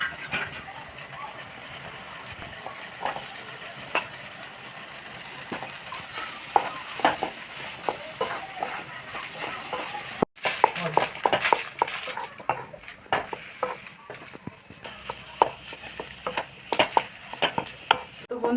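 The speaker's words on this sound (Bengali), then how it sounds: "আলুটা ভালো করে কষে নিয়েছি তো মশলার সাথে" Mashed potato and spices frying in a pan, a steady close sizzle broken by repeated scraping stirs, with a brief break partway through before the stirring and frying resume.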